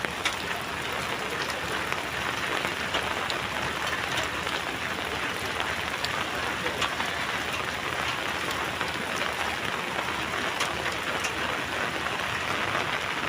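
Steady rain pours outdoors where a child casts a fishing net, forming a dense, even hiss of drops that runs at a constant level for the whole stretch with no voices.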